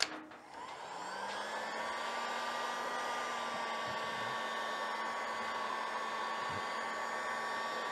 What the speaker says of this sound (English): Use a hair dryer or a heat gun. I happen to have a heat gun on hand today.